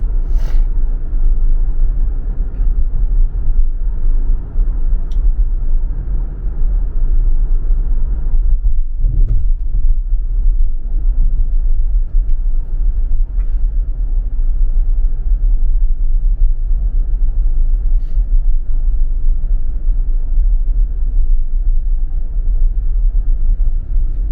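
A car driving on FSD Beta rolls over bumpy railroad tracks, its cabin filled with a loud, steady low road rumble, with a brief jolt of heavier thumping about midway through.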